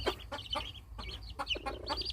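A brooding hen with chicks tucked beneath her gives soft, repeated clucks in an uneven rhythm, close by, with faint high peeps from the chicks between them.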